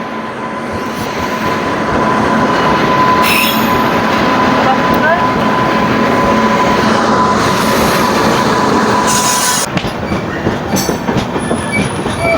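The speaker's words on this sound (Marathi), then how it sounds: "चला आली ट्रेन" The 10116 Madgaon–Bandra express train rumbles loudly and steadily into a station, wheels clattering on the rails, with a faint high squeal near the end.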